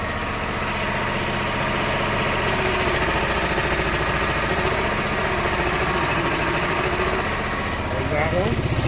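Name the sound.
Snapper zero-turn mower engine revving up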